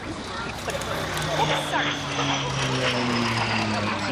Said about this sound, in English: that's going to be doing some aerobatics here